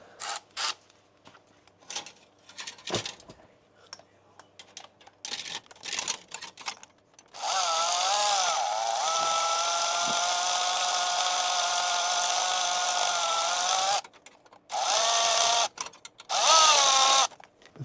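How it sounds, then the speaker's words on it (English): Wrench work on an exhaust downpipe clamp on a Mercedes C63S with a catless downpipe, heard as scattered clicks and taps followed by a long steady mechanical whir from a power tool, then two shorter bursts. "So we're going to tighten the included clamp with our downpipe, but not all the way"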